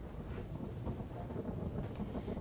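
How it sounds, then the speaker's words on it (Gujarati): Heavy downpour over rural villages in Dwarka district, a steady dense wash of rain with low rumbling that fits thunder, continuous and fairly distant throughout, no voices. "ગ્રામ્ય વિસ્તારોમાં ધોધમાર વરસાદ વરસી રહ્યો છે"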